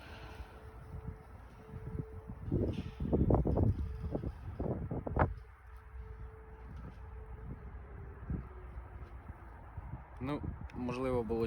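Gusty wind buffets an outdoor microphone with low rumbling bursts, strongest in the middle, while someone speaks in between and a faint steady hum runs underneath.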